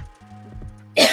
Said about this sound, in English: Totally hear me cough on that muting mic.